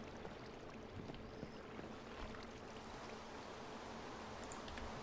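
Water poured in Minecraft rushes and flows in a steady, faint wash with no breaks, like a soft running stream.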